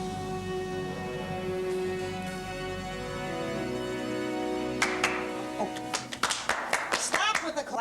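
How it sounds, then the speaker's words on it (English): Several people clap hands in a brief scattered burst near the end, sharp irregular claps following a quieter stretch with a steady hum. "Stop with the clapping."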